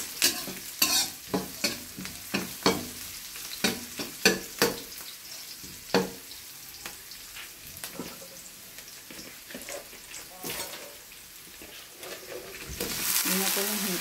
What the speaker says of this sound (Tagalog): Kapag medyo brown na po yung bawang at sibuyas, lagay na po natin yung hipon.